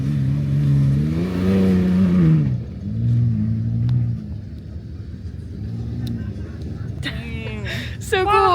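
A Ford Bronco Raptor's twin-turbo 3.0-litre V6 on an off-road trail revs hard in rising and falling bursts, then settles into a lower drone, with excited voices calling out near the end.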